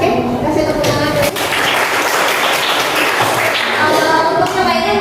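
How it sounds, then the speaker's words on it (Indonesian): A classroom of students claps together in a dense, steady round of applause lasting several seconds, close and fairly loud, with voices mixed in at the start and end. "Oke, kasih tepuk tangan dulu"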